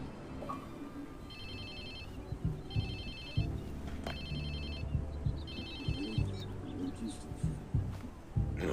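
A phone rings in the open-world game Watch Dogs 2, with repeated electronic ring bursts sounding in short regular pulses over game ambience, birdsong and scattered background noise.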